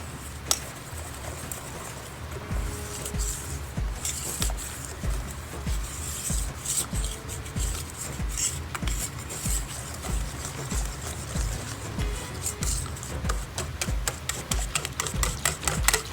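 Kuih kosui batter of all-purpose flour whisked steadily in a bowl, producing a continuous rhythmic scraping and clicking that runs alone throughout without speech.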